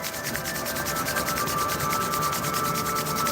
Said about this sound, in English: Rub the palms of your hands.